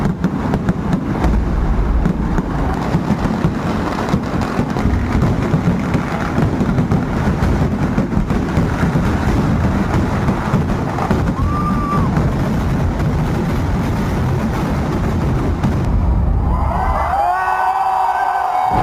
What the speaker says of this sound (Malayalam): അങ്ങനെ ഒരു കൂട്ടരുടെ വെടിക്കെട്ട് കണ്ടു.